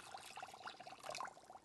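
Water is poured into a rock tumbler barrel partly filled with sand, giving a faint, soft gurgling trickle that runs steadily for a moment, quiet and close with no voices.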